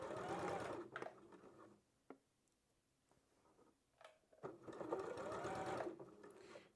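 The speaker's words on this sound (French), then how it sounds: "on coud au fur et à mesure" Domestic sewing machine stitching bias binding around a curved edge of a blouse, whirring in two fast bursts separated by a quiet pause with soft clicks and handling sounds.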